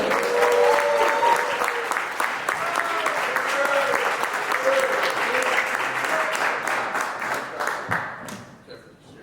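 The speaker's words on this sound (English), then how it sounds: "put your hands together one time for my brother" A crowd applauds steadily with dense clapping and some cheering, fading out toward the end.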